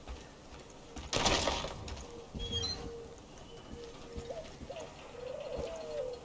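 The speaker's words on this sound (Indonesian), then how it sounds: "Suara burung tekukur." A spotted dove coos in the video game Far Cry 5, its soft hooting calls repeating faintly over a steady outdoor ambience, preceded by a loud rustling burst.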